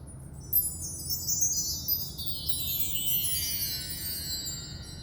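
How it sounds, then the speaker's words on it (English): Mark tree chimes struck at the top, giving a shimmering glissando of tiny high bell tones that sweeps downward over a few seconds, fairly quiet over a low background hum, with no talk. "generally it's the better idea to hit the top of the chimes"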